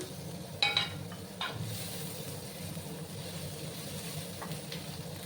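Grated ginger frying in a pan while making paneer butter masala, a low quiet sizzle with a few brief sharp clinks of a utensil against the pan near the start.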